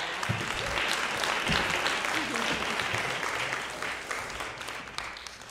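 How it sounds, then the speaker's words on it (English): A congregation at a synagogue service applauds in a steady, dense wash of clapping that fills the room, loud and sustained before tapering slightly near the end. "Do people want to get like one more, one more round of applause?"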